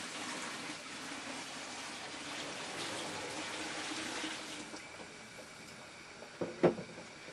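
Strong apricot moonshine is poured into a container, a steady liquid gush that tapers off into a few drips and a brief louder splash or clink near the end; no speech.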